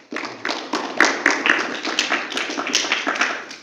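Audience clapping at a discussion session workshop in Kamakhya, Guwahati, Assam: a burst of many hands clapping at close range, dense and steady for a few seconds, with no talk over it.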